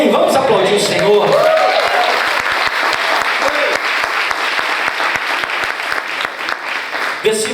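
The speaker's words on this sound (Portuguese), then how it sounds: "Vamos aplaudir o Senhor." A church congregation applauds together in a steady, dense wash of clapping that fills the room, with a voice and some cheering rising over it near the start.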